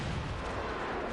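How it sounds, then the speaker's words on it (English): Cannon fire in the Genshin Impact video game, a continuous rumbling barrage of booms blending into a steady roar throughout the short stretch. "Damn, that's a lot of cannons."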